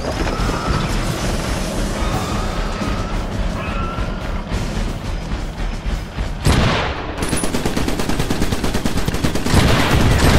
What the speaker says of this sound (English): Can we see what a shotgun turret could do there, please?